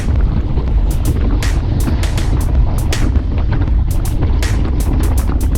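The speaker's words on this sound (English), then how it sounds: "The wind's coming from our right, and it seems to be swirling around a little bit" Strong wind buffets the microphone during a group road cycling ride, with a constant low roar broken by bursts of gusty rumble and occasional sharp crackles.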